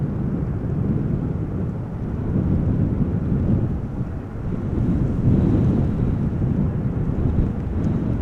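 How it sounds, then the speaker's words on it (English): Strong wind gusting across a microphone outdoors at Amsterdam Schiphol Airport, a continuous low roaring rumble that swells and eases over several seconds, loud and close with no speech. "Wind is definitely picking up as well"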